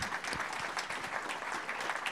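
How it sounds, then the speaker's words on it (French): An audience applauds a speaker at a design-week opening conference in France, a steady round of many hands clapping, moderately near, with no talk over it. "on peut t'applaudir"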